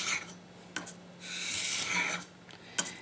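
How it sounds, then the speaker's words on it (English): A leather splitter blade sharpened by hand on 320-grit wet/dry sandpaper, giving a steady scraping rasp in faint strokes, with a few sharp taps between passes. "I like to use wet dry sandpaper."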